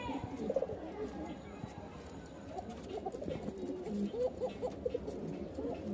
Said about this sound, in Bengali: হাত বাজির একটা মাদি ককার ডাক শুরু হয়ে গেছে